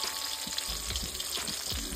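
Rupchanda pomfret fish sizzling and frying in oil in a pan, a loud close crackle with bursts of spitting and a low bubbling bed, no voices.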